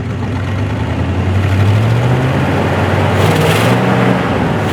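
A 1976 GMC C35 truck engine drops to low idle, its steady rumble sliding down in pitch before settling into an even, continuous running sound.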